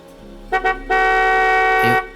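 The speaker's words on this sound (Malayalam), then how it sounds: "ഈ സമയത്ത് ഇവിടെ ഹോൺ അടിക്കുന്നത് അസോസിയേഷൻ റൂൾസിന് അഗൈൻസ്റ്റ് ആണ്." A car horn gives two quick short toots, then one long steady blast lasting over a second, loud and close.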